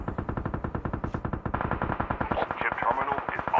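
A steady rapid burst of automatic gunfire in the mobile shooter Call of Duty Mobile, close and loud and running continuously.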